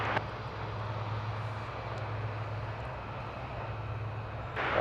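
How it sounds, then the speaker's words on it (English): Air Canada Flight 1030, an airliner crossing a taxiway bridge at DFW, gives off a steady, faint distant jet engine hum with low rumble throughout. "We're going to get a brief look at Air Canada Flight 1030. It's going across the bridge"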